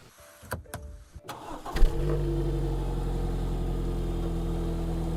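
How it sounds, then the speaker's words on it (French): A few clicks and a brief starter whir, then the four-cylinder engine of a BMW 3 Series E90 catches and settles into a steady, low idle hum. "Au démarrage, le 4 cylindres émet un son très agréable"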